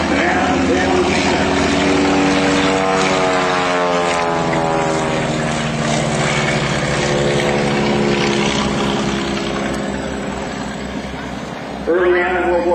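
A World War I D-7 biplane flying by at an Old Rhinebeck airshow, its propeller engine droning loudly and steadily with a gradually shifting pitch as it passes, while a voice talks over it.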